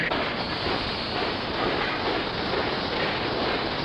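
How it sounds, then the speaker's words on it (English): A runaway train in a 1959 cartoon rumbles along the rails with a steady, broad roar and faint rhythmic clacking, loud and continuous. "The Royal Train is running away."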